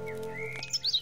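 A small companion bird in the fantasy adventure game The Book of Unwritten Tales gives a few bright, high chirps close by, rising into two or three sharp tweets at the end over a soft, steady background tone.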